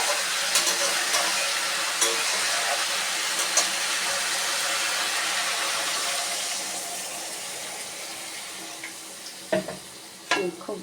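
A mixed vegetable curry with paneer cooks in a pan with spices: a loud, steady sizzle that slowly fades, with a few faint clinks and scrapes near the end.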